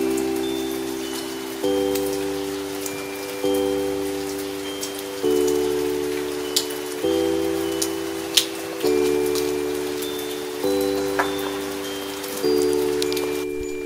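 Rain falling on a rainy morning in Madrid, a steady wash of drops with occasional sharper ticks, under a sustained musical tone that changes pitch every couple of seconds.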